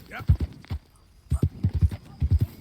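Hooves clip-clop in quick uneven bursts as a horse moves in a video game, close and fairly loud, with a short pause between the groups of steps and a voice talking faintly underneath.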